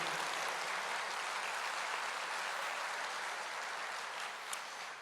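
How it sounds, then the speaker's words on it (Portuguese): A church congregation claps together in praise, a steady, dense wash of applause holding for the full stretch at moderate distance, with no voices rising above it. "aplauda o Senhor"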